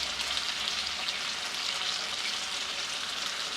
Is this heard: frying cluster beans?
yes